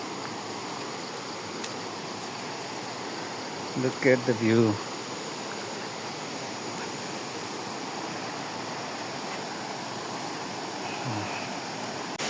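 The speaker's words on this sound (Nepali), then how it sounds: "खोला पनि देखियो है।" A river flows near the Sonjha Kuna waterfall, a steady broadband rush that continues throughout while a voice speaks briefly.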